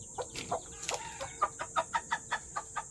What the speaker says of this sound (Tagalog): Ito ang inahin. And iyan ang mga sisiw niya